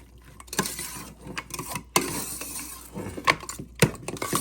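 Churumuri ingredients such as tomato, mango and lemon being stirred in a bowl, giving irregular clinks and scrapes of a utensil against the bowl with a few sharper knocks.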